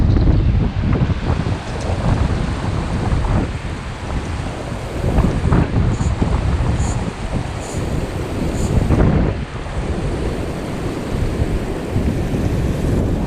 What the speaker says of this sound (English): Wind is really, really bad.